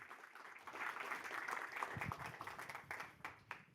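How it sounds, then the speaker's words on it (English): Faint applause from a conference audience at a marketing summit, soft uneven clapping rising and fading over a few seconds with a quiet voice or two in the room. "Round of applause."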